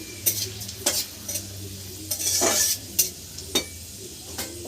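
Chicken frying in a pan until reddish, with sharp stirring scrapes and clatters over a steady close sizzle, several distinct strokes across a few seconds.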